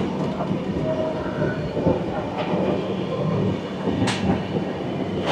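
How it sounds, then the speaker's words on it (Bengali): Shaktipunj Express, the 11448 Howrah to Jabalpur train, pulls out of Durgapur station with a steady, close rolling rumble and wheel clatter, plus a short high squeal near the end. "এখন ওই 2 মিনিট হল্টের পর আমাদের ট্রেন দুর্গাপুর স্টেশন ছেড়ে"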